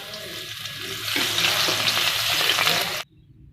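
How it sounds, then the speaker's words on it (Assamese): Crushed garlic dropped into hot oil left over from frying fish, bursting into a loud, bright sizzle after a second of quieter sound, holding steady and then cutting off abruptly. "এতিয়া সেই একেখিনি তেলতে আমি নহৰু এড কৰি লম।"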